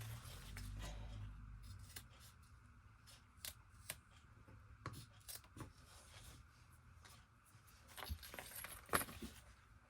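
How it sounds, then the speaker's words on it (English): Scissors snip off extra zipper tape on a crossbody bag project, a series of sharp irregular clicks and cuts close by, with quiet handling noise between them. "What I will do is I will trim this, the extra zipper tape."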